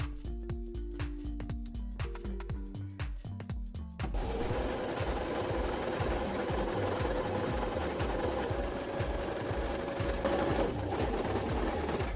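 A sewing machine stitches a garment lining, first in a few slow, separate runs of stitches, then in a fast, steady whir that sounds close.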